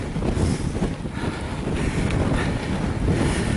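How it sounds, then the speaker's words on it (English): Strong, gusty wind roars across the microphone during a bike ride on a very windy day, a loud, buffeting rush that swells and dips without a break. "This is proper windy."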